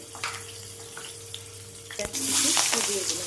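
Nigella seeds hit hot oil left over from frying rupchand fish, setting off a sudden loud sizzle about two seconds in that keeps crackling to the end. A brief spoken phrase comes just before the burst.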